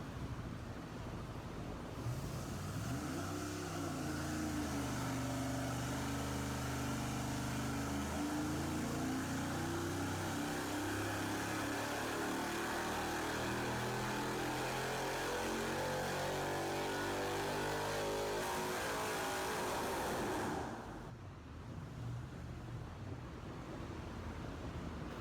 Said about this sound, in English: It is a low buck cheap turbo test run on a K24A2 Honda motor.